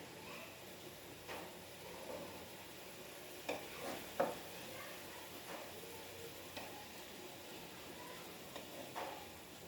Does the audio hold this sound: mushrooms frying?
yes